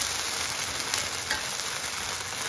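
Sambar cucumber dosa roasts on a hot pan, giving a steady, soft, close sizzle with a faint crackle throughout and no voices.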